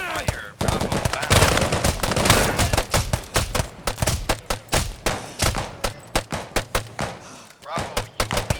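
Rapid gunfire rattles through a military training drill, first as a dense burst of overlapping shots and then as loud, regularly spaced reports close by, with shouted voices in between.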